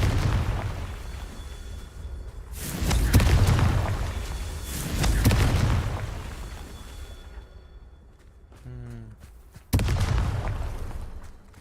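Confringo blasting spells burst in Hogwarts Legacy, a few heavy booms spaced apart, each swelling and fading over a rumbling game background, with a short whooshing cast sound just before the last blast.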